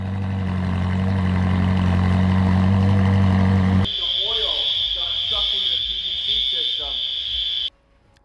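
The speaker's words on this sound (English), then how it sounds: "Fire alarm turned on." A workshop fire alarm sounds as a loud, steady high-pitched tone that begins partway through and then cuts off near the end, with people talking beneath it. Before the alarm starts, a loud low engine rumble fills the space.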